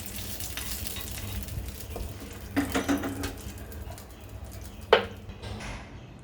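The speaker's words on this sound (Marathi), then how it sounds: "एक चमचा तीळ गॅस बंद केल्यावरच घातले कारण ते तडतडणार" Sesame seeds crackle in hot tempering oil after the gas is switched off, a steady close sizzle with bursts of spitting and one sharp pop near the end, no speech.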